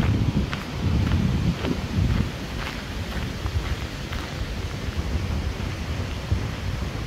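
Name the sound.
wind blowing outdoors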